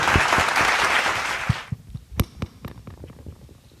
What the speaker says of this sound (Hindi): तालियों से जोरदार इनका इस्तकबाल करें